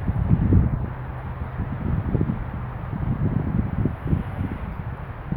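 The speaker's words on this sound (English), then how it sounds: "A little bit windy today" Low, gusty wind rumbles steadily outdoors, buffeting the microphone with uneven bursts throughout.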